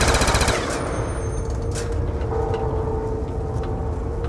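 An M27 rifle fires in a solo zombies video game: a rapid loud automatic burst in the first half second, followed by scattered shots, mechanical clatter and a sustained ringing tone.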